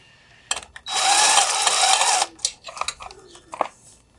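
A power tool loosens the exhaust bolts on a Yamaha XSR700 motorcycle, giving a close, high whirring burst of about a second and a half followed by short ratcheting clicks and clanks of metal.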